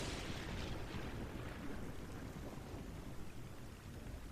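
Torrential rain in Final Fantasy X-2 falls as a faint, steady wash of noise with low rumbling underneath, constant for the full few seconds with no voices.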